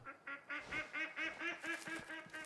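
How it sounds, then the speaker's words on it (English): In Way of the Hunter's Alaskan lakeside setting, a duck quacks steadily, about a dozen evenly paced nasal calls in a continuous rhythmic run, moderately close with no voices. "Come to Alaska, home of the ducks."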